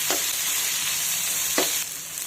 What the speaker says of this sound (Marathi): त्यामध्ये मिरची टाकून घेऊयात, म्हणजे कांदा आणि टोमॅटो याच्याबरोबर मिरची सुद्धा चांगली परतून होईल.